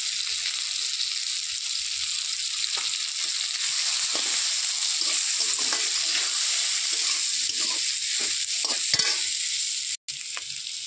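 Ground cumin and dried red chilli being stirred in hot oil in a pan for a jackfruit curry, a steady close sizzle with scraping spoon strokes throughout and a brief gap near the end.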